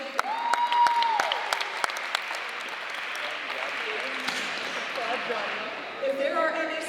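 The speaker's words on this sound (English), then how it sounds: "please turn around and applaud your parents" Steady applause from a large crowd fills the whole stretch, a dense patter of many hands with a few voices rising over it.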